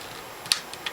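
Flintlock hammer on a handmade flintlock being drawn back to half cock: a few faint, crisp mechanical clicks, with one sharper tick near the middle and lighter ticks after it, close up in a quiet room.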